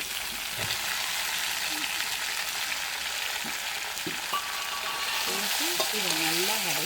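Chopped onion and small tomatoes sauté in a pan with a steady close sizzle and occasional stirring scrapes, while a voice talks faintly in the background.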